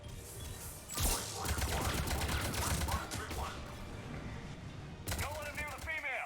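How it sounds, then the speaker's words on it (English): Grenade pistol fire in a sci-fi shooter on Insanity difficulty, heard as dense bursts of sharp reports and blasts with a short lull, then renewed explosive bangs mixed with game voices. "you switch back to grenade pistol"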